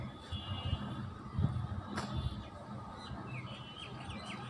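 Wild birds including pigeons and a spotted dove call outdoors, faint chirps and tweets rising over a low background murmur.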